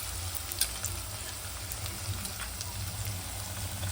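Goat trotter curry (kalakura) frying in a pan with a little salt, giving a steady close hiss and fine crackle throughout, with no talking.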